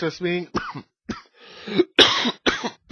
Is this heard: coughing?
yes